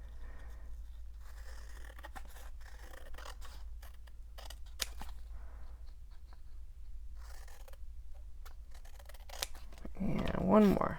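Repeated snips of sticky scissors cutting through paper in a quiet room, steady clicking blade strokes up close, with a brief louder rustle near the end.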